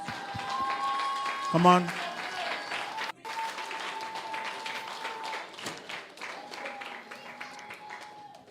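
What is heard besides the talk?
congregation applauding the mothers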